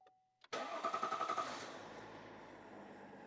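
A Chevrolet 2500HD engine with a PPE intake starts up after a brief starter crank. A sharp catch is followed by a rough, pulsing idle that settles into a steady rumble, fairly faint and alone.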